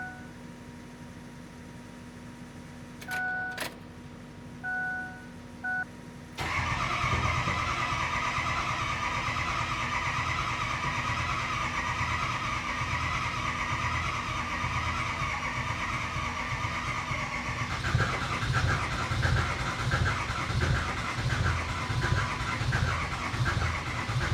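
A few faint beeps and clicks, then a 6.0 Powerstroke diesel truck engine, left sitting for five years, cranks and fires up, settling into a loud, rumbling idle with occasional revs, close by.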